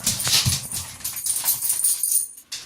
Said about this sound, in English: the dogs are playing, running around like crazy.